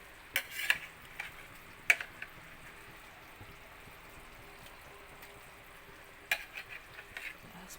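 Fish fillet fries in a pan with a quiet, steady sizzle, punctuated by a few sharp clinks and scrapes of utensils against the pan.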